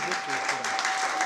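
A church congregation claps in sustained applause, a dense steady patter of many hands at close range with a faint tone running underneath.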